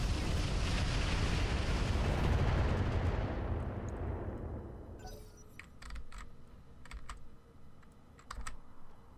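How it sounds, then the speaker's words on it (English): Heavy mech weapons fire in Roguetech, a loud sustained roaring barrage that rumbles for several seconds and then tapers off, followed by a scattering of sharp, separate impact bangs. "Firing on target."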